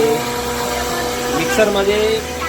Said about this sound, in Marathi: मिक्सरमध्ये तयार होत आहे चटणी